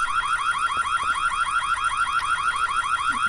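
An intruder alarm in the Whiteday horror game blares loud and steady, a rapid repeating electronic warble cycling several times a second with no pause.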